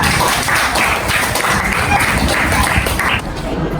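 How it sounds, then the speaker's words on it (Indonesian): Students in a classroom clap for a group about to present, a brief burst of scattered, close handclaps with a busy room tone and some voices underneath. "beri tepuk tangan dulu untuk kelompok 4"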